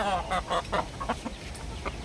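A healthy derby-weight gamecock rooster gives a series of short close clucks, with a soft background murmur.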